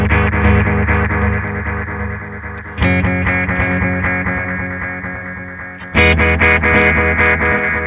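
Guitar played through a Red Witch Titan pedal with three delays chained in series, the last set long with medium feedback, building loud, busy, syncopated echo layers over sustained strummed chords, with no voices.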